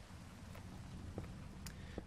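Rain falls in the SevTech Minecraft modpack as a faint, steady hiss with a low rumble beneath, broken by a few soft, sparse drop-like ticks, with no voices over it.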